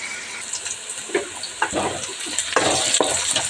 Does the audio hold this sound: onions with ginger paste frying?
yes